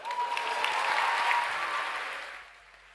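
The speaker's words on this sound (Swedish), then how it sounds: "Ge en varm applåd för Bello UF." Warm audience applause greets a student company, Bello UF, coming on stage for a pitch final, swelling briefly then fading out as the clapping dies away.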